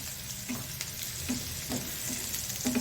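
Onion fries in a pan for palak paneer, giving a steady close sizzle with faint scraping stirs at regular intervals, no talk.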